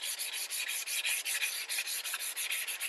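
Rapid back-and-forth sanding strokes rasp steadily over a Lotus Exige S carbon fiber engine cover as the lacquer clear coat is sanded off, close and fairly loud with a quick even rhythm and no talking.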